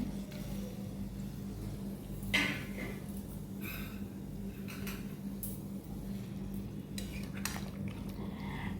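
Soft fried bottle gourd dhoka pieces are stirred very gently in a pan, quiet intermittent spoon clinks and scrapes over a low steady background hum, with no talking.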